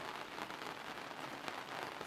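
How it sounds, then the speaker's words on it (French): Steady rain patters on the rear deck of a 1996 Heritage-built Burgundy 900 sedan boat, a dense, even hiss of drops that is close and continuous with no voices over it. "Alors, il pleut"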